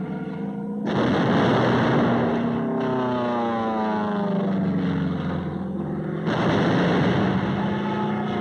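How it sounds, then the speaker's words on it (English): Naval guns on supporting ships fire point-blank at Iwo Jima, heavy booming blasts rumbling continuously beneath a droning aircraft engine, loud and dense. "supporting ships deliver point-blank fire"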